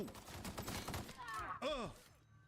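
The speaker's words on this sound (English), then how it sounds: "Oh, this is a machine gun." Quick bursts of machine gun fire crackle in a video game, close and rapid for the first second or so, then giving way to a voice.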